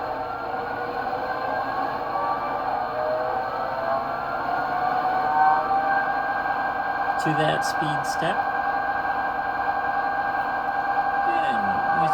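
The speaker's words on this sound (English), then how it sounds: "F11 raises the sound of the engine, speeds it up." USA Trains GP30 Burlington model locomotive with a Zimo sound decoder, its diesel engine sound rising in pitch as it revs up, a steady droning hum with a brief spoken remark partway through.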